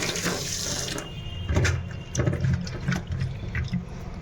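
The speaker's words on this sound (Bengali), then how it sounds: "প্রথমে ভালো করে ধুয়ে নেবো মুড়গুলো" Fish heads are washed under a running kitchen tap: a steady gush of water into a sink, with splashing and clattering bursts as the heads are handled, fairly close and moderately loud, with no talk.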